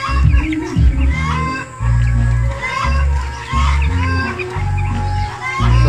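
Broiler chicks about seven days old on a farm in hot weather cheep and cluck continuously, a dense close flock chatter over a steady low hum, with loud music playing nearby.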